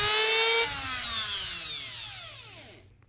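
A Dremel rotary tool grinds a 1.5-inch cardboard pipe, a high, close whine that slowly drops in pitch as it bogs into the material, then spins down and stops.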